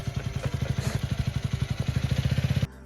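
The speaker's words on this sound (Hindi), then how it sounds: "देखो कैसे रपट रही है बाइक, बहुत खतरनाक चिकनी मिट्टी है भाई" A KTM Duke 250 motorcycle engine thumps in rapid, steady pulses while riding over slippery mountain clay, loud and close, then cuts off abruptly.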